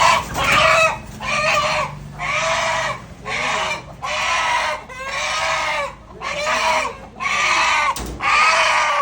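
A native country rooster at a Tamil Nadu chicken shop crows and clucks close by in about nine loud, evenly spaced bursts, separated by brief pauses.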